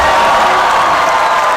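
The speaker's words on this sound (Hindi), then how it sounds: "तालियां" A studio audience at a comedy show breaks into loud, sustained applause and cheering, a dense wash of clapping and crowd noise with no clear pauses.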